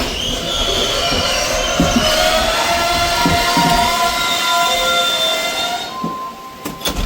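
The Yaldevi passenger train pulls into Vavuniya station in Sri Lanka, its wheels squealing loudly in long, sustained metallic tones over a steady rumble of rolling carriages, heard from on board.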